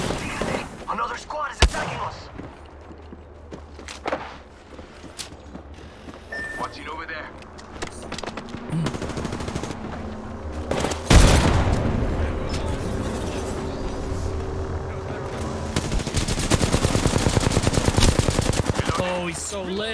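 Rapid video game gunfire crackles in dense bursts alongside other game sound effects, swelling louder toward the end while players talk over it.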